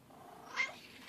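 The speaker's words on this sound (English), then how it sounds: "Are you the cutest cat ever?" A domestic cat gives a single short, fairly faint meow near the middle of a quiet indoor moment, with no one speaking over it.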